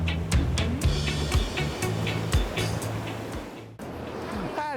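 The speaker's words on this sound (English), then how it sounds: "Don't matter how many times you come to the ocean side, it's just hearing it." Ocean waves washing onto the shore at a seaside in Britain, a constant loud rushing surf that fills the whole stretch, with people's voices and wind mixed in over it.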